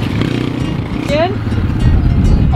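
A motocross dirt bike at a learn-to-ride session at The MX Factory runs close by, its engine putting out a steady low throb that rises slightly toward the end while people talk over it.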